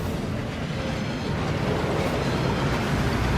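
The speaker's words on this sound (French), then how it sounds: "Cette cascade permet de dissiper tous les enchantements." A waterfall in the Gringotts vaults of the Hogwarts Legacy video game gives a steady, dense rushing of water that fills the whole clip, with no voices over it.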